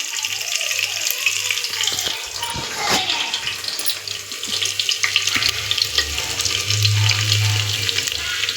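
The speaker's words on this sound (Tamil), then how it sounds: "கடுகு பொரிஞ்சிச்சு, நம்ம ஆட் பண்ணிக்கலாம். நல்லா பொரியட்டும்." Mustard seeds splutter in hot oil for oil-style brinjal, a crackling sizzle heard close alongside splashy, tap-like running water and scattered clatter, with no voices.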